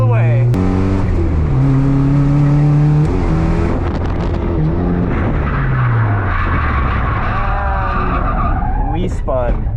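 A car's engine revs hard and shifts pitch while drifting around a lap, tires squealing and skidding loudly, close and continuous, with a voice speaking at times.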